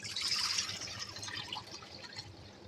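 Plain water poured over fresh chhena to rinse it while making rasgulla, a soft splashing trickle that is strongest at first, then thins to a quieter, steady flow.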